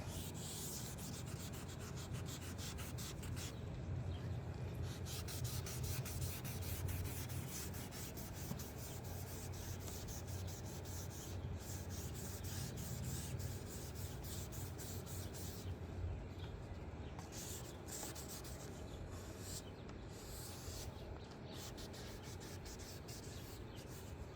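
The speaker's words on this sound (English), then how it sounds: "Make sure your sanding pad and your lens stays wet." Continuous rhythmic rubbing and rasping of wet sanding on a Honda Civic headlight lens goes on back and forth for a long stretch, steady and close, with no voices.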